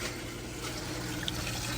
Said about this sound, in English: We are draining the water.